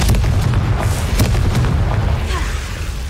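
Repeated fiery spell blasts from the Confringo charm in Hogwarts Legacy, a steady run of loud booming bursts with a deep rumbling low end and crackling over about three seconds, with no voice.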